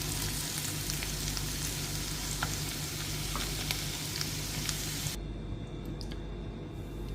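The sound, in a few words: potatoes frying in a pan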